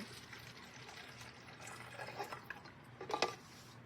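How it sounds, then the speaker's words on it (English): A cup of water being poured into a watering can as part of a tabletop snowpack model, with quiet splashing building to a brief louder gush near the end, faint and close. "we're going to have a participant pour 1 cup of water into"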